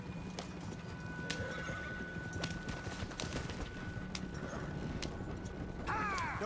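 Horse galloping in the video game Red Dead Redemption 2, rapid rhythmic clip-clop hoofbeats with gear rattle and a whinny near the end, all close and steady under game ambience.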